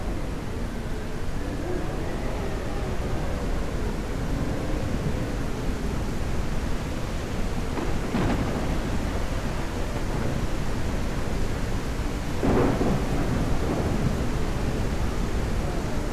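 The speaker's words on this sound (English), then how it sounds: "we got another rainstorm" Heavy rain pours steadily as a rainstorm rumbles on, with faint thunder swelling briefly twice, all heard from indoors as a constant, loud wash.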